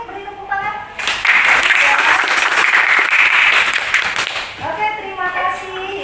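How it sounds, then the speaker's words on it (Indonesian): Classroom applause breaks out for students who just finished presenting a lesson on Islamic cultural history, a dense burst of clapping of about four seconds that rises and fades, with talk just before and after. "Oke, beri tepuk tangan."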